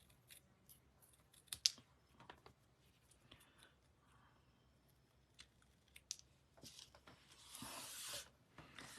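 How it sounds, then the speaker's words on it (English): Scissors snip paper in a few quick, quiet cuts spread irregularly, close by in a near-silent room, followed by a brief rustle. "I'm just looking for my scissors to just trim up this one here"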